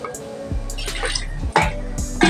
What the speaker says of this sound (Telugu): దానికి రెండు కప్పులు వాటర్ వేసేస్తున్నాను